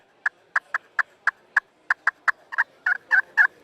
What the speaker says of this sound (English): you flip that over and you get an older sounding hen